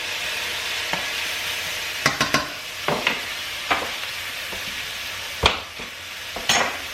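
Garlic hits a pan for fried cabbage, giving a continuous close sizzle broken by sharp clacks and scrapes of a spoon stirring, several in quick clusters.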